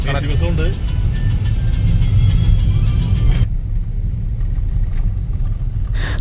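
Vehicles travel along the road to Pamba, with a loud, close engine rumble and the swell of a car passing, then a steadier low drone as traffic continues, while people talk over it.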